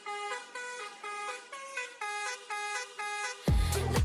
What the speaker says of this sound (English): they're kind of standing on the road trying to get them to honk